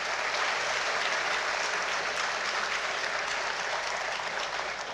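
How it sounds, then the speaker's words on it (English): Sustained audience applause for the chief guest at a university foundation day programme, dense and even, holding at a steady level for the whole stretch with no talk over it. "A big round of applause for our chief guest."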